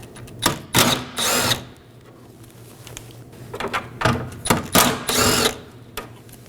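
A power driver spins off two 8mm tail light bolts on a 2014–2018 Chevrolet Equinox, with two clusters of short, loud whirring bursts separated by a quieter pause, close up and with no talking.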